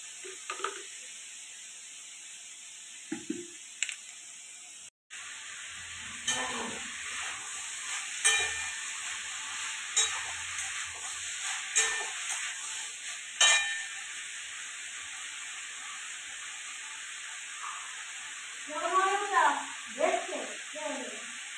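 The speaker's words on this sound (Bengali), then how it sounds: "পোস্তটা ঢেলে দিই।" Poppy seeds tip into a hot pan and fry with a steady sizzle as a spatula stirs and scrapes them in repeated strokes; a voice speaks briefly near the end.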